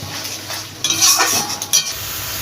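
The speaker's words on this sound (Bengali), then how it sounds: "আদা রসুন কাঁচা লঙ্কা মানে টমেটোর একটা কাঁচা গন্ধ থাকে সেই গন্ধটা যতক্ষণ না যাবে তেলের মধ্যে ভালোভাবে নেড়ে ভেজে নিতে হবে" Ginger, garlic, green chilli and tomato are stir-fried in oil, a brief burst of close sizzling with clinks and scrapes of a utensil against the pan.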